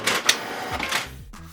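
Canon PIXMA TS3750i inkjet printer running its automatic print head alignment page, giving a close, mechanical stretch of whirring and clicking with sharp bursts as the carriage and paper feed move, no talk.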